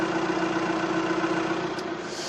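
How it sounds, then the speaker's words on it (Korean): A diesel Audi A6 sedan engine idles with the hood closed, a steady, even hum held at moderate volume, with a faint click near the end. "이 정도의 엔진 소음을 기대하실 수가 있는 차량입니다"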